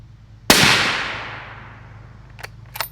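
A single sharp report from a suppressed Rex Silentium MG7 pistol firing AAC ammunition, loud and close with a long decaying tail, followed by a couple of faint clicks.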